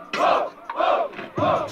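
A rap battle crowd at a Batalha da Aldeia semifinal chants in loud, rhythmic bursts, three surging shouts spaced evenly and filling the space close by.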